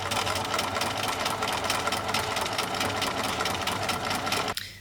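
A sewing machine runs steadily, stitching stretch knit fabric scraps onto calico for a scrappy quilt; the loud, close, continuous motor whir and rapid needle rhythm hold for over four seconds, then cut off abruptly.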